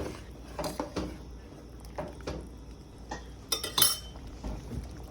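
A utensil mixing curry in a pot, with intermittent clinks and scrapes of metal on the pot, moderately close, in a few irregular bursts with a denser cluster near the end.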